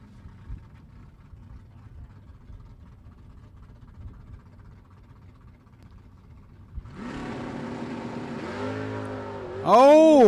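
A first-generation Camaro legal super stock drag car at a drag race: a low idling rumble gives way to a loud engine roar as it launches, followed by rising revving engine sound, with a distant crowd-like background.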